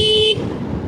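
A single short car horn blast, about a third of a second, sounds close over steady road and engine noise on a long South Indian road trip through ghat sections.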